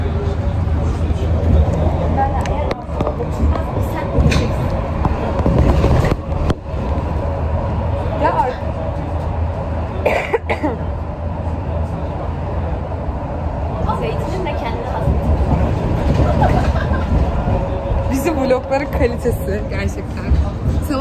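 Ride aboard a Metrobus: continuous engine and road rumble with passing thumps and rattles throughout, heard close while people chat over it.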